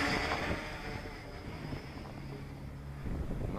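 Mini FPV quadcopter, an MJX Bugs 3 Mini, whirring steadily outdoors in winter, a constant high motor buzz mixed with gusty wind noise on the microphone, briefly louder near the end.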